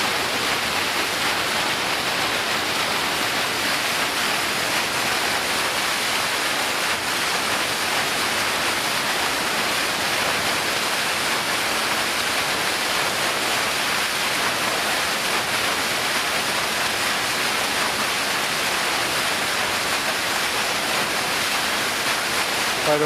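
River water pumped through a flow test facility in Logan, Utah, a constant loud broadband rush like a waterfall, unchanging throughout with no voices.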